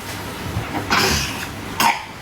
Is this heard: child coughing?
yes